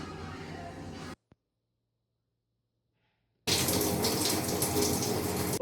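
Shower water running in a bathroom, a steady hiss of spray that cuts off abruptly, leaves a couple of seconds of silence, then starts again just as loud.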